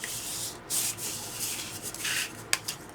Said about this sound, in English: we're going to take the bone folder and we're going to burnish in